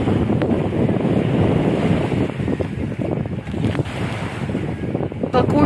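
Strong wind gusting at the Red Sea shore in Sharm El Sheikh, Egypt, in November, roaring steadily into the microphone with surf washing underneath, loud and continuous throughout.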